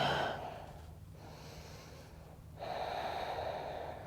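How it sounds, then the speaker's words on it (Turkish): Slow, deep breaths during a stretching exercise, close and quiet: a long inhale and a long exhale with soft airy hiss and no talk. "Bir nefescik daha. Derin nefes al."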